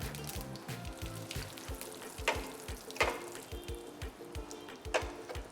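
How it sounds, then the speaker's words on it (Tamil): Mustard seeds, curry leaves and asafoetida sizzle in hot oil, a close, steady frying hiss broken by sharp pops and crackles as the seeds burst, with a low hum underneath. "அரை ஸ்பூன் கடுகு, அது பொரியிறப்பவே கருவேப்பிலை"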